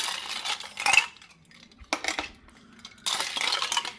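Ice cubes dropped into a glass of watermelon sharbat, giving three separate bursts of bright clinking and rattling, close and crisp with quiet gaps between them.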